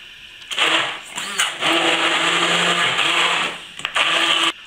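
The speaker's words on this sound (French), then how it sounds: "À l'aide d'un mixeur plongeant, donc je vais mixer." An immersion blender purées celeriac with milk in loud, close whirring bursts. One brief pause early on and a short stop near the end interrupt the run before it resumes.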